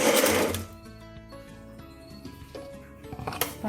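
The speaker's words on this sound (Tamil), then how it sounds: "இந்த 2 தக்காளி இப்போ இது எல்லாத்தையும் சேர்த்து ஒன்றா அரைச்சிக்கணும்" A mixer grinder pulses tomatoes and spices for rasam in a short, loud whirring burst at the start, followed by quieter clinks and a brief second whir near the end.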